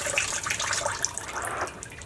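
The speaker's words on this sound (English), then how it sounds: "fill up all that air gap with water" Water is poured into filled jars to top up the air gap, a close, steady splashing and gurgling pour that runs unbroken for a couple of seconds with no talking.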